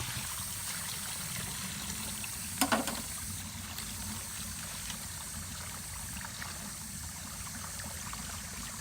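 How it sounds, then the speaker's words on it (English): Water pours out of the drain port of an in-ground pool's cartridge filter in a steady, soft trickling stream that runs throughout, with one brief knock partway through. "that water will start pouring out of there"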